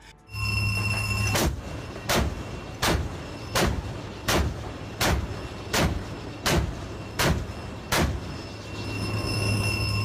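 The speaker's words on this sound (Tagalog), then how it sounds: "live gun firing exercise na nagpapakita ng 76mm na baril ng BRP Antonio Luna" A 76mm naval gun aboard the Philippine Navy ship BRP Antonio Luna fires about ten times at a steady pace, each loud boom sharp and evenly spaced over a low engine rumble.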